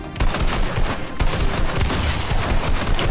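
Rapid gunfire in the video game Fortnite, a dense continuous burst of shots that is loud and close throughout, with no talking over it.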